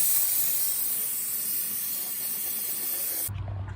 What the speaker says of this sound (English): you want to blow out the air around, get away the dust away from the plugs